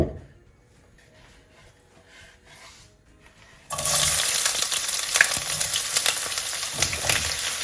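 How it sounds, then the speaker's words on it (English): After a few seconds of near quiet, sliced onions hit a hot pan holding plenty of oil, and a loud, continuous sizzling fry begins abruptly, then carries on steadily to the end. "A nice hot pan, and I've got quite a lot of oil in here, and I'm just going to fry these onions."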